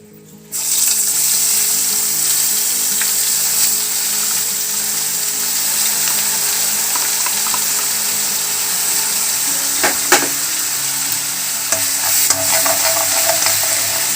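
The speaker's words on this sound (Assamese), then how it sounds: "এতিয়া মই দিছোঁ এয়া পিঁয়াজৰ পেষ্টখিনি দি দিছোঁ" Onion paste sizzles loudly in hot mustard oil with cumin and coriander spice mix, bursting in abruptly and then frying steadily up close while occasional stirring scrapes break through the hiss; no one talks.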